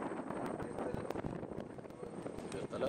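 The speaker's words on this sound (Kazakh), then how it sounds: "Вертолет, только вертолет." A helicopter flies near a mountain crossing, its rotor and engine drone steady and fairly faint beneath wind noise, with voices talking over it.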